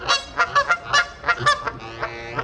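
Canada geese honk repeatedly at close range at a canal lock in Manchester, with about a dozen sharp nasal calls in quick, uneven succession.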